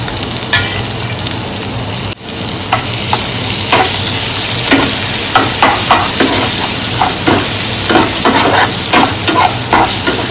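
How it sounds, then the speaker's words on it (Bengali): Grated garlic and ginger paste fry loudly in hot oil, with a steady close sizzle broken by repeated clacks of a utensil stirring the pan, in a kitchen where prawns and papaya are being cooked. "আর এই রসুন দিলাম, তারপরে আদা পেস্ট দিলাম।"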